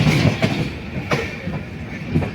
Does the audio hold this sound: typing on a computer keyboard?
no